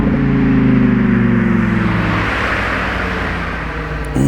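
A Lamborghini Huracan Sterrato drives past on the road, its loud engine note dropping in pitch through a downshift and then fading as it moves away, with no talking.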